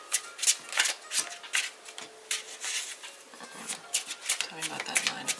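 Tarot cards shuffled by hand, a close, dry run of rapid riffling and sliding bursts with short pauses, repeated over several seconds without any talking.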